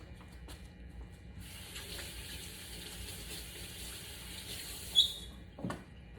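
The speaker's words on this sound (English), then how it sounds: "Sorry, let me wash my hands." Tap water runs steadily into a kitchen sink while hands are washed between steps of mixing muffin batter, a broad hiss from about 1.4 to 5 seconds with a couple of brief knocks near the end.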